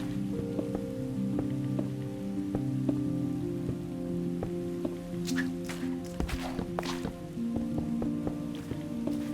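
Rain falling in the video game Minecraft with the RLCraft modpack, a steady soft patter of drops on surfaces under layered tonal game background music, with occasional sharper clicks and splashes.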